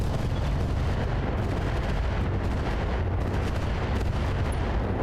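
Mech weapons firing in BattleTech RogueTech, a dense, continuous barrage of heavy booming shots and explosions layered into a steady loud roar with no pauses.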